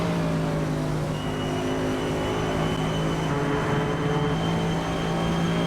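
Proto-GT race cars sweep through the 130R corner at Suzuka in iRacing, a continuous close engine drone holding steady pitch with a second car's tone layered above it.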